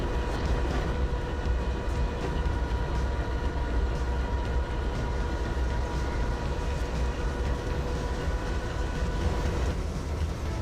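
A freight train rolls along the rails with a steady low rumble and rhythmic clickety-clack of wheels, loud and continuous throughout, with no voices.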